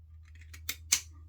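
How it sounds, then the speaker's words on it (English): Scissors trim the plastic tabs on a Yaqi razor's packaging: a couple of quick, crisp snips up close, the second one louder, over a quiet background hum. "I'm going to take my scissors and trim them."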